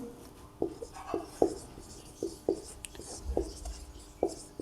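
Writing during a maths lesson on vector algebra, heard as a series of short, regular strokes and taps about every half second, with faint whispery breaths in the background.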